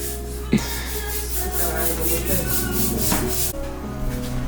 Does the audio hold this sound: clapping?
no